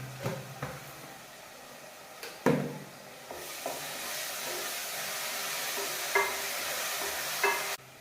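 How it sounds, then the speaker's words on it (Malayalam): Oats cooking in a pan are stirred with a steady hissing fry, broken by a few scraping knocks of the utensil; no voices. "നല്ലോണം ഒന്ന് ഇളക്കി കൊടുക്കും"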